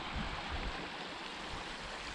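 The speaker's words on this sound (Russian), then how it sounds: "Вот туда бежит вода" Steady rushing water from the Sipoholon hot spring in North Sumatra, Indonesia, flows without pause toward bathing pools, a dense broadband wash like a small stream running close by.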